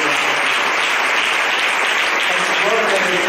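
Sustained applause from a church congregation at a thanksgiving service, dense and steady throughout, loud and close, with a faint voice underneath near the end.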